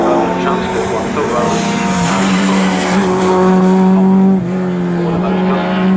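A BMW and other rally cars race at Cadwell Park during a North Humberside rally, a loud, sustained engine drone with a steady tone for several seconds, as a commentator talks over it.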